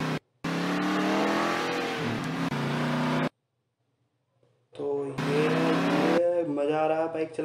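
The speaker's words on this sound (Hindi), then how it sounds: "तो चलिए बाइक चलाते हैं अब हम।" A motorbike engine revs in the video game GTA Liberty City Stories, two loud sustained bursts with rising and falling pitch, broken by a short silent gap, then a choppier stretch of engine roar.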